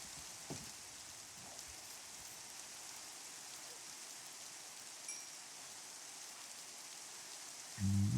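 Rain falling in the Minecraft video game makes a soft, steady hiss of drops on surfaces. It stays faint and even throughout, with a brief louder bump at the very end.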